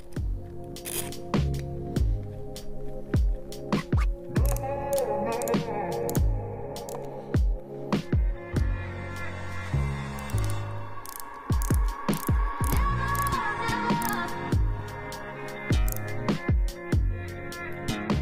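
A ratchet wrench tightens the oil pump bolts on a classic Mini under restoration, making close, repeated bursts of sharp clicking and metallic knocks separated by short pauses.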